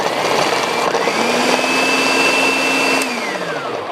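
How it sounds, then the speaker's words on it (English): A food processor coarsely chops cranberries for a Thanksgiving ambrosia salad, a loud steady motor whine that ramps up in pitch, holds for a couple of seconds, then winds down. "Add your cranberries into a food processor all at once."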